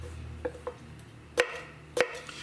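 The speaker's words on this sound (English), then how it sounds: "Let's go ahead and peel this onion." A white onion is peeled by hand, giving a few sharp, dry crackles and snaps, with two louder ones near the end, close up in a quiet room.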